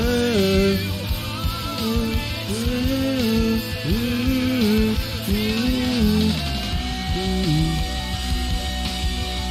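String section in a remix, sustained bowed lines gliding and shifting pitch over steady, rhythmic low accompaniment, full and continuous for the whole stretch.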